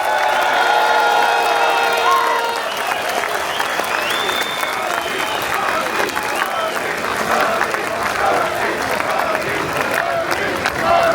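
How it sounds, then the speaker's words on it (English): A large outdoor crowd at a freedom of speech rally in London applauds steadily, with cheers and whoops mixed into the clapping, which swells and carries on throughout. "Let's give her a round of applause again, everyone, come on."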